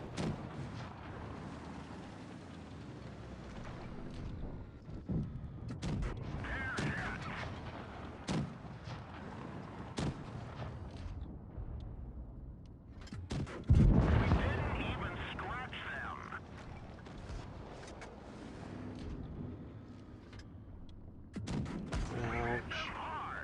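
Tank cannon shots ring out in a video game battle: scattered muffled booms and mechanical clanks, with one loud heavy blast standing out midway, as players talk over the action.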